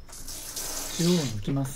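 Tap water runs steadily into a sink to rinse salt from salted capers, a continuous close splashing flow with a voice speaking over it toward the end.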